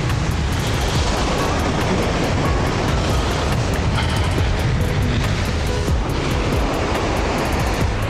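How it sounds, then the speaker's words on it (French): Small sea waves lapping on a sandy beach at Djerba in January, a steady, loud wash of surf close by with no distinct breaks and no voices. "Allez, je vous en refais une petite tarade de l'eau. Une petite vague."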